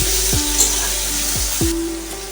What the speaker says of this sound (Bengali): তারপরে দিয়ে দেব পেঁয়াজ কুচি। ভালো করে নাড়িয়ে নেব।